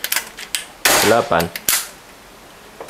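A rapid string of eight sharp gunshots, crisp cracking pops fired one after another in an uneven rhythm, close by, then quiet.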